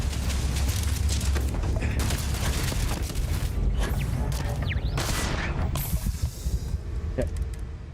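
Heavy weapons fire from a particle beam turret in Starfield, a sustained barrage of booming bursts and crackling blasts under dense combat noise that stays loud throughout and thins slightly toward the end.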